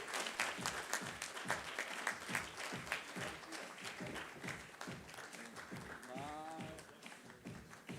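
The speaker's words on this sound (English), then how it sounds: "I request you all for welcoming them with thundering applaud, Mr. Vishal Wadhwani." A convention audience applauds steadily at a felicitation ceremony, a dense wash of many hands clapping in fairly even rhythm, with a voice briefly heard over it near the end.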